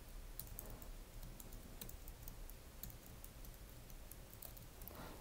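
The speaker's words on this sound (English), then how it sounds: "All you gotta do is type in your text." Typing text on a computer keyboard, a faint steady patter of light key clicks in an irregular rhythm with no talk.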